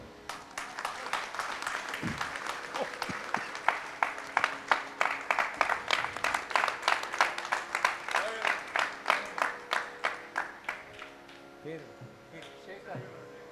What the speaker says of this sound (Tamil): பெரிய கைத்தட்டு கொடுக்கணும்